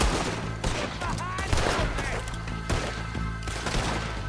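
Gunfire from a shootout in Red Dead Redemption 2 on PS4: repeated sharp shots crack out in irregular bursts over a busy game soundscape, loud and close.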